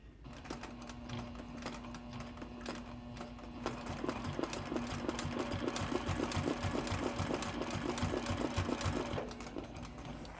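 A sewing machine stitches a quilt along a straight-edge quilting ruler made for charm squares, its steady motor hum and rapid needle rhythm running continuously and close, growing slightly louder partway through.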